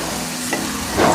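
Garlic ginger paste sizzling with chicken in a hot pan while being stirred, a steady frying hiss with a brief scrape and a louder burst of sizzle near the end.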